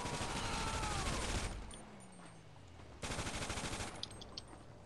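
Video game gunfire aimed at a computer monitor: two loud, rapid automatic bursts separated by a quieter gap, close and dense, with no talking.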